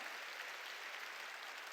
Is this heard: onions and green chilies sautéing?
no